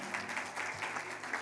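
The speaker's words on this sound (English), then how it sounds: "Can we clap for that?" Audience applause at a Ring the Bell for Gender Equality event, a steady patter of clapping from a crowd, moderately quiet and continuous through the short moment.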